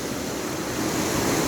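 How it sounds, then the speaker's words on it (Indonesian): Water rushing steadily along a new river channel carved by yesterday's flash flood, the river now split into two streams near cracked ground; a broad, continuous close roar without talk. "Ini sungai baru yang tercipta dari banjir bandang kemarin teman-teman ya."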